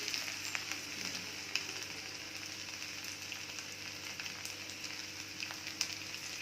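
Mustard seeds, cumin, pepper and ginger sizzle steadily in hot oil for Tamil Nadu-style pongal tempering, a soft continuous hiss with faint scattered pops throughout.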